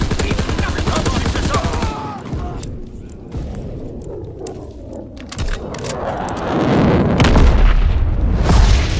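Rocket launch and heavy gunfire in a WW2 first-person shooter during a hardpoint match: dense bursts of gunfire and booms, easing into scattered shots, then a loud rumbling launch blast swelling at the end over game ambience.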